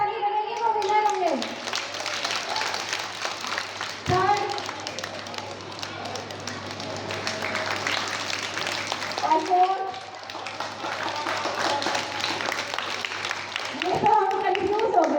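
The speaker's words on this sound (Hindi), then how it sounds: "तो एक बार सबके लिए जोरदार तालियां बजा दो" Audience clapping for children at a Krishna Janmashtami cultural festival, with bursts of hand taps and applause mixed under an announcer's amplified voice and someone speaking.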